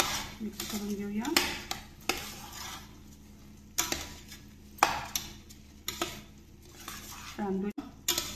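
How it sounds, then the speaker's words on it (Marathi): Rice being stirred into brinjal masala in a pan, with close spatula scrapes and clinks against the metal in irregular strokes over a faint sizzle, with some quiet talking. "आता आपण हे तांदूळ यात मिक्स करून घेऊया।"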